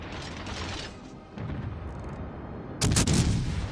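Naval artillery booms and mechanical clanks from the warship game World of Warships Legends, with a muffled rumble early on and a louder blast near the end.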